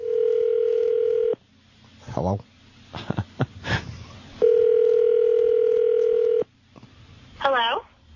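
Telephone dial tone on a radio station prank call, a steady tone that breaks off, several short dialing beeps, then a second long steady tone; someone answers near the end.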